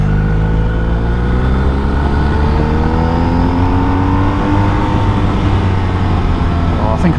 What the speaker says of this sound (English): this 1250 Boxer engine is just such a beautiful tractable engine